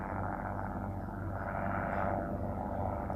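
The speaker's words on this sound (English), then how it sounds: "But there is a helicopter down there, I promise." A helicopter flies far below a mountain peak in Nevada's Rainbow Mountain Wilderness, a faint, steady distant drone under wind rumble with no clear rotor beat.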